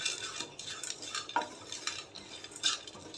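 Ingredients dry-roasting in a pan being stirred, with soft scraping and rustling strokes and faint clinks of a utensil against the pan, quiet and close, no voices.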